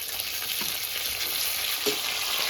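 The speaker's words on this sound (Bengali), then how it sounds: "ভালো করে ভেজে নিচ্ছি" Steady crackling sizzle of vegetables and flat beans frying in a pan, close and continuous, with a faint scrape of stirring and no talking.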